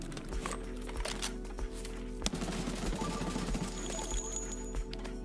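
Stock weapon firing in a first-person shooter video game, a rapid run of repeated gunshots at a steady rhythm over a low constant hum, moderately quiet with game background sounds.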